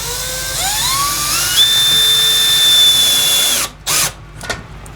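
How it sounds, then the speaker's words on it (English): Power drill driving a screw with a rubber grommet into a workbench, its whine rising in pitch as it spins up, holding steady for a couple of seconds, then cutting off, followed by a few short blips. "screwing it down so it doesn't move"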